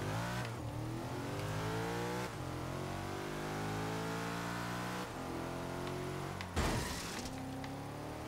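Racing car engine in Forza Horizon 3, revving hard and pulling toward 200 km/h. Several rising sweeps are broken by quick gear shifts, with a sharp crash-like burst near the end before the engine climbs again.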